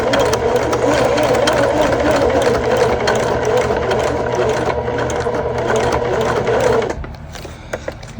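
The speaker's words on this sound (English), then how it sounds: "going to use a 4 stitch length on my machine, and I'm going to back stitch just a little at the beginning" Close, loud sewing machine topstitching a bag at a 4 stitch length, running steadily for several seconds before stopping abruptly, followed by quieter handling sounds.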